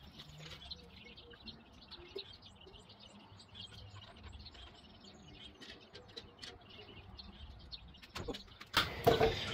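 Faint, scattered high peeps from small chicks over quiet background, followed by a burst of close rustling and handling noise at the end.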